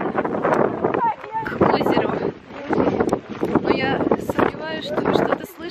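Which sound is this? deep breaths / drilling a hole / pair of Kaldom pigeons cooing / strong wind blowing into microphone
strong wind blowing into microphone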